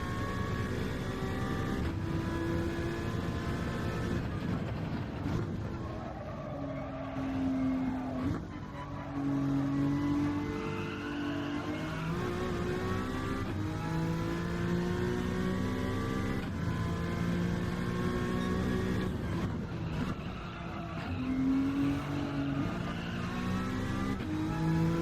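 A race car engine in Gran Turismo 7 drones and revs continuously, its pitch stepping up and dropping as the car shifts down through gears, with tire noise underneath and no pauses.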